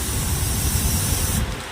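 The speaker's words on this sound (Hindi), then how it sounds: "ये दूसरी सीटी है।" A pressure cooker whistle releases steam in a loud, close, continuous hiss lasting over a second, then cuts off sharply.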